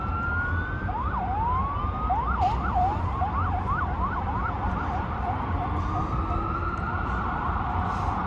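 Wailing and yelping emergency sirens cut through steady Lower Manhattan, New York City traffic noise, rising and falling rapidly, moderately distant, with no talking.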